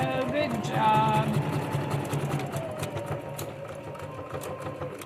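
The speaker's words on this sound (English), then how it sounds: "I have had this sewing machine for 12 and a half years now" A sewing machine runs close by in a rapid, steady stitching patter, while a person talks over it at the start.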